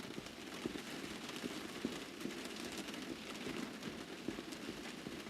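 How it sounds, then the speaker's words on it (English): Steady rain in a video game patters on a surface, a dense continuous hiss with scattered louder drops, no voices. "Oh boy, it's raining."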